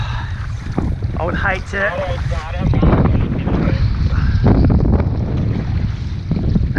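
Wind gusting over open water while fishing from a kayak, a steady broadband rush buffeting the microphone throughout, with someone talking over it.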